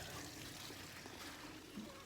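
Water overflowing at a spring house, a faint continuous trickle and gurgle of running water, close but quiet, steady for the whole brief moment with no talk.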